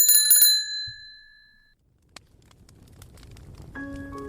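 A bicycle bell rings twice in quick bright dings at the start, followed by soft patter and a faint second ring near the end, with no talk.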